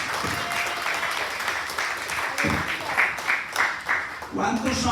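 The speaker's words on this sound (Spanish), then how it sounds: "Den ese aplauso fuerte al Rey de la Gloria." Church congregation clapping loudly in praise during a service, dense applause with a voice or shouts rising over it toward the end.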